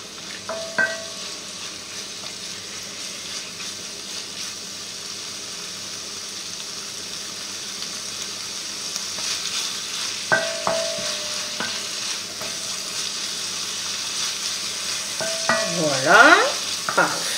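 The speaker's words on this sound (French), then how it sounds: "Voilà, ça repart, on entend frémir." Rabbit chasseur sauce simmering in a pan, a steady soft bubbling and sizzling with occasional clinks of a utensil against the pan, no voices.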